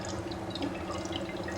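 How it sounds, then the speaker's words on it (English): Solid ice sublimating in a container gives off a steady stream of close, soft bubbling and fizzing with small irregular pops, continuous throughout and free of voices. "And if you listen to the bubbles, you have some kind of music in your ears."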